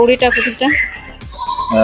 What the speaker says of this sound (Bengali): ছাগল রয়েছে